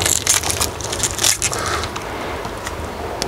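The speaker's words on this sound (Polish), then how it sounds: "przełamie kolbę, żeby jak wszystkie, to wszystkie" A dry corn cob snapped in two by hand during a field inspection of maize, giving a close, sharp crunching break with splintering crackle and a brief scrape.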